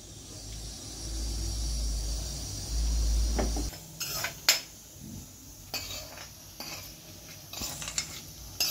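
Chopped onion being mixed by hand into a mango coconut chutney in a bowl: after a steady low hum, a series of irregular wet squishes and light clinks, close and moderately loud, with no one talking.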